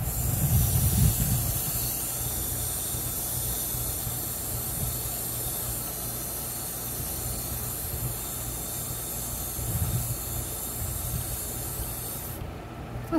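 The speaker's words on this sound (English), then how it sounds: "And now we are going to water them." Water sprayed onto moringa seedlings in pots, a steady broad hiss running unbroken and close throughout, with slightly stronger bursts near the start and end.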